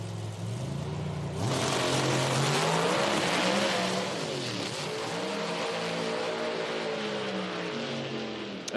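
A Pro Mod or Top Fuel drag racing car at an IHRA Outlaw Nitro Series meet in Hebron, Ohio roars loudly and continuously down the strip, its engine note wavering and juddering as the tires shake.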